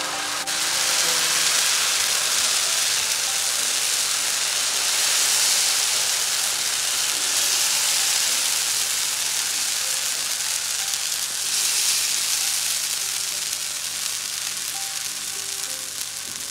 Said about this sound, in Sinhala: මේ විදිහට රත් වෙච්ච සාමාන්‍ය තැටියකට තෙල් ටිකක් ගහලා දැන් අපි තෝස ටික හදාගමු